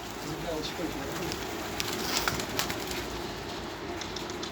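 Pigeons on a high rooftop give soft coos and brief wing flaps over a steady outdoor wash, with someone talking nearby through much of it.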